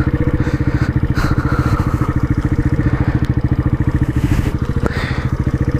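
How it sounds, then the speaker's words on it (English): A road motorcycle attempting muddy off-road riding, its engine running with a loud, close, steady rapid pulsing throb and rattly clatter that swells slightly at times, with no talk. "This is why road bikes are not meant for off-roading."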